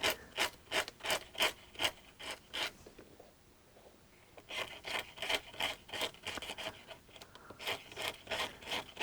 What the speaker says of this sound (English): And I use this sandpaper. You want to go in one direction only and sand.